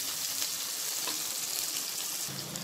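Shahjeera spices and onions frying for bagara rice until colored, a dense, even sizzle held at moderate loudness throughout.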